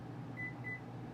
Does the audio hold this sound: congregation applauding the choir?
no